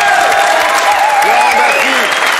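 A studio audience on the French television game show Double Jeu applauds, dense steady clapping filling the whole short stretch, with a voice speaking over it.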